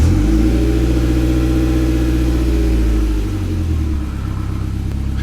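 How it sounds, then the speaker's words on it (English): A Mitsubishi Evo X running just after a timing chain rebuild, a loud, steady low engine hum close to the microphone that settles into a rougher, pulsing idle toward the end. "let's go ahead and get this car started"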